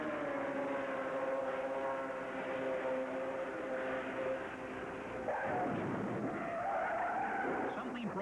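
An Indy race car at a 1986 Indianapolis 500 practice skids after a right-rear failure before hitting the wall; a held tire squeal over engine noise gives way to a rougher scraping burst, with commentary talk throughout.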